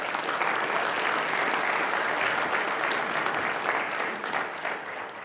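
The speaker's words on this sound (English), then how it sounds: "Round of applause." Applause at a security conference fills the room with dense, sustained clapping for a few seconds, then thins and tapers slightly near the end.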